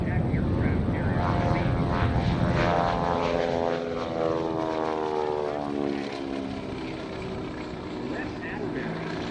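A Grumman TBM Avenger torpedo bomber, a vintage propeller warplane, taxis at the Rochester airshow with a loud, steady radial-engine drone and propeller throb that eases slightly toward the end, while an announcer talks over it.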